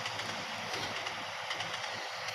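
Rear car of the Blambangan Express passenger train hauled by a CC 206 locomotive, a steady broadband rumble and rush of the moving carriage with faint rhythmic wheel clatter, continuous and fairly loud throughout.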